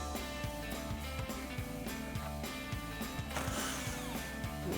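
Repeated rapid ratchet clicks, close and mechanical in a steady rhythm, as a socket wrench works a 10mm nut off the lower headlight mounting stud of a 2021-2023 Ford F-150.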